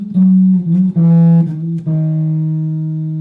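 Low bass guitar notes connected by hammer-ons form the intro to a song, a few sustained tones sliding into one another up close and ending on a long ringing note.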